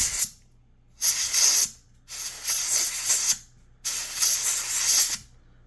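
Canned air sprays in four sharp, loud hissing bursts, each about a second long with short silent gaps, blowing dust out of the ports of a Sega Genesis console, close up.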